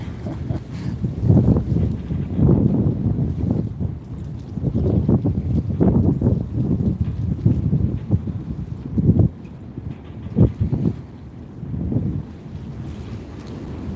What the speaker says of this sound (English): It is a little bit windy out here today.